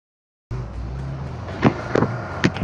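A car engine in the PUBG Mobile game starts abruptly and runs with a steady low drone and a few sharper revving surges, close and moderately loud, no speech.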